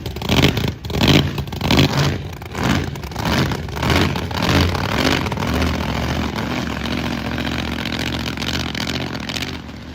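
A 1,500-horsepower drag-racing limo engine revs hard and loud up close, several throttle surges rising and falling before settling into a steady, droning roar with clattering mechanical noise.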